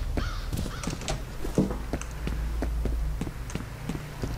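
Crows caw in a video game, a handful of harsh calls scattered over a steady background of in-game ambience and light rhythmic thumps.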